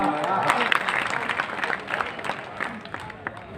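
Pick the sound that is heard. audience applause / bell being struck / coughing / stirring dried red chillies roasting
audience applause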